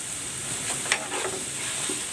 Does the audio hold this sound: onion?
yes